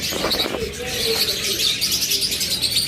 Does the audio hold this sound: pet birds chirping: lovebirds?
yes